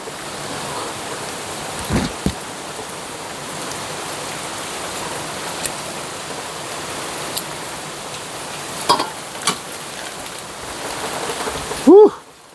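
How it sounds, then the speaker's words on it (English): Steady rain falls outdoors around potted pothos vines, a constant even hiss with a few louder drops and thumps; a brief vocal sound comes near the end. "I don't mind the rain sometimes."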